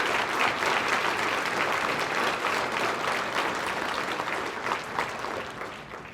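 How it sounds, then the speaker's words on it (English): A banquet crowd at a county conservation awards dinner applauds the Central Hardin High School land judging team, with dense, steady clapping filling the room and tapering slightly toward the end. "We need to wish them all the best of luck with a round of applause"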